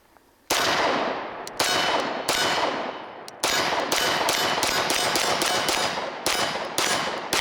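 A SIG Sauer P226 Legion pistol with an 18-round flush-fitting magazine fires a string of about ten loud, close gunshots in steady succession, each a sharp crack with a ringing echo tail.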